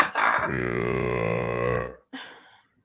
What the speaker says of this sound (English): this girl belches a lot